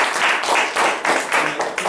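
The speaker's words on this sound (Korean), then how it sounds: "박수 한번" A lecture-hall audience at a university discussion forum applauds a guest professor, with steady dense clapping pulsing in a few waves for about two seconds, fairly close and loud.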